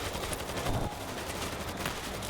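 Turret gunfire in World War Z Aftermath, a rapid continuous rattle of automatic shots during a zombie swarm fight, steady and fairly close throughout the short burst.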